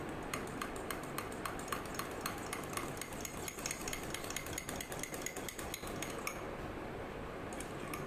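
Chocolate mug cake batter with melted butter being quickly mixed, rapid steady clinking of a spoon against the mug and a constant busy scraping texture, close and continuous with no speech.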